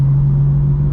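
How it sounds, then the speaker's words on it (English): A BMW M4 Competition F82 driving through Chicago, its cabin filled with a loud, steady low engine drone and a constant hum, with no clear rising spool whistle standing out over it. "you can kind of hear the turbo spool"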